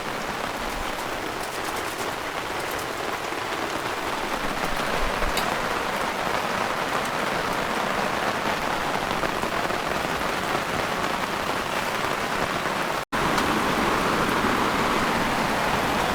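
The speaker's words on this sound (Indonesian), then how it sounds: "hujan masih terus turun" Steady rain falls on surfaces nearby, a dense, even hiss of drops that holds at constant loudness throughout, with a brief dropout near the end and no talking.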